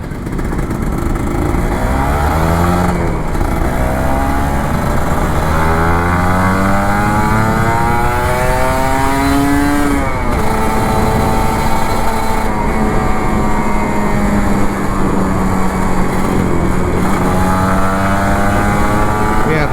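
A Kawasaki Ninja RR 150 motorcycle engine revs hard and steadily up and down through its gears, loud and close throughout with a continuous roar.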